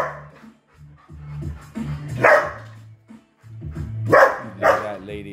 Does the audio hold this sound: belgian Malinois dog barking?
yes